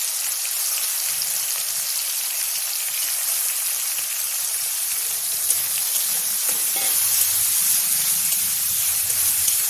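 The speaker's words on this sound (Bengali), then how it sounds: "টমেটোটা একটু ভাজা হয়ে গেছে" Tomato fries in a pan with a steady hiss of sizzling oil, close and continuous, swelling slightly toward the end, with no voices.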